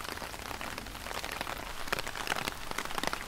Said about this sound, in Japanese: 雨が多い休日です。